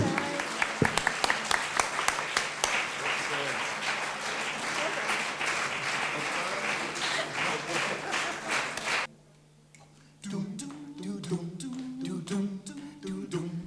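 Audience applause after a song at a performance, dense clapping for several seconds that drops off abruptly, followed by a voice and music starting.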